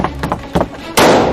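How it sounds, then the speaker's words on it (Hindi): Gunshot sound effect in a Hindi horror audio drama: a sudden loud burst that rings out after brief, choppy voices and thuds. "देख क्या रहे हो सूर्या, गोली चलाओ"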